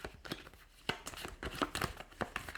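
Terraforming Mars bonus cards are shuffled and cut by hand, giving soft, close riffling and papery flicks in quick irregular bursts at low volume, with no talk.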